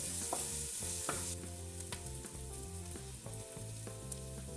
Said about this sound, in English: Add in our oil, cumin seeds, and our garlic. And we're gonna cook this until it's golden brown.